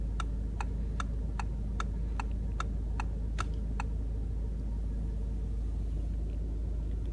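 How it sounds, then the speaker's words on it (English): A 2016 Audi TT Coupe S turn signal ticks about ten times in an even rhythm inside the cabin over a low steady engine rumble, then stops while the hum continues. "And there you have the turn signal light controlled"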